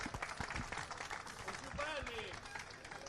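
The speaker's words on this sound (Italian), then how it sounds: "applaudiamo anzitempo la compagnia Remiera Lavagnese e la congediamo" A crowd at the Palio Marinaro del Tigullio rowing event in Rapallo gives faint, scattered clapping for the Remiera Lavagnese crew, distant and quiet beneath an announcer's voice.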